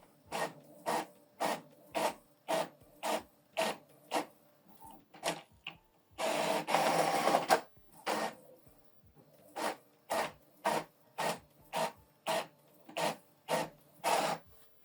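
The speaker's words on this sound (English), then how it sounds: "Printing complete. This is the document we printed double-sided black." An Epson ET-3950 printer printing a double-sided black document makes a steady series of rhythmic mechanical passes, with a longer louder feed noise partway through before the regular strokes resume.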